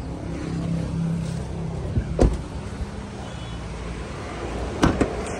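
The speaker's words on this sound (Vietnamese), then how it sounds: "Để anh giật cabo cho anh em nghe tiếng máy nè" A 2015 Suzuki Ertiga's 1.4-litre petrol engine idles steadily under an open bonnet, a low continuous hum with a couple of brief sharp clicks or knocks, with no talk.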